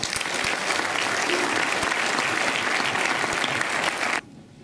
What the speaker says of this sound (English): can we give all of our visiting filmmakers a round of applause now, please?